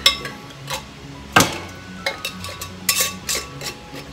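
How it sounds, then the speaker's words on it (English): Metal canning lid and ring band being handled on a glass jar while pressure canning chicken stock, a series of light clinks and taps, one louder knock, close and without talk. "Get a lid and ring band."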